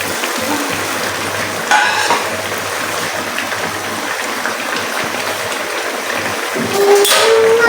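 Potato and egg curry simmers and fries in a pan, giving a steady, close sizzling hiss with occasional louder spatters and bursts of stirring, with no talk.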